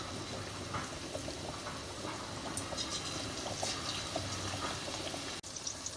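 Pakoda batter for onion pakoda dropped bit by bit into hot oil, giving a steady, dense bubbling sizzle throughout, close and continuous with a brief sharp knock near the end.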